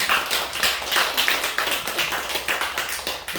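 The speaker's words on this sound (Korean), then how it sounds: "박수 합니다." A church congregation claps together during a Sunday service, a steady dense patter of hands that holds evenly for several seconds, loud and close with no talk over it.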